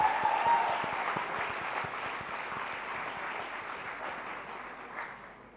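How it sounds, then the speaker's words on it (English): A graduating class at a school graduation ceremony applauds itself: dense, sustained clapping from a large crowd that starts loud and slowly fades over several seconds. "let's put our hands together for ourselves"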